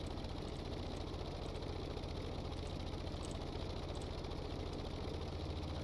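A vehicle engine idles in the Stormworks building game, a steady low mechanical drone with an even pulsing rhythm and no talking.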